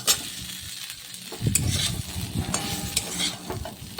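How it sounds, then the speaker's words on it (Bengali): Fried papaya and potato pieces tossed into a hot pan already seasoned with cumin powder, salt and turmeric, giving a steady close sizzle with scraping stirs and a few clinks. "এরপর ভেজে রাখা পেঁপে আলুটা দিয়ে দিচ্ছি"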